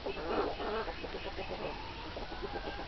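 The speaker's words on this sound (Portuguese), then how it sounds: "Tonho, explica aí o que é que os galos tá conversando pra ela" Chickens and roosters clucking and murmuring nearby in a low, continuous chatter, with a few louder bursts at the start.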